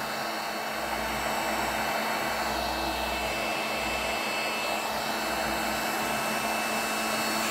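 A Parkside digital hot air gun blows steadily at 650 degrees while heating charcoal, giving a constant, even whooshing hiss of fan and airflow that stays unchanged throughout, fairly quiet and with no voices.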